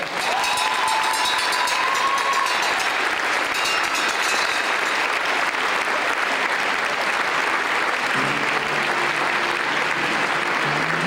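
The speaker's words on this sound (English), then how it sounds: "Let's give him a round of applause again." Loud, sustained applause from a large crowd fills the whole stretch, dense clapping with no pauses.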